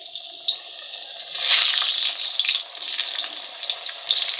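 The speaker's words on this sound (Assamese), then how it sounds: "এতিয়া যে মই প্ৰথমতে আলুকেইডোখৰ ফ্ৰাই কৰি ল'ম" Potato pieces frying in mustard oil in a wok, a steady close sizzle and crackle that swells and stays loud throughout, with light stirring and no talking.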